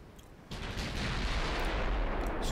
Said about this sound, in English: I'd rather you fire on the very dangerous battleship